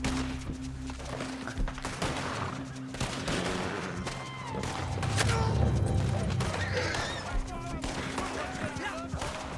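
Gunfire in the video game Red Dead Redemption 2, a dense fusillade of shots and thuds running throughout over a game soundscape, with players talking over it.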